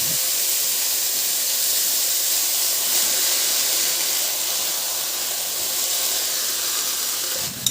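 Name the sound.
tomatoes sizzling as they are added to sautéed garlic and onion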